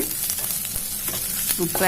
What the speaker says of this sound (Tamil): மிளகாய் ஆட் பண்ணிவிட்டு நல்லா வறுத்து விட்டுக்கலாம்.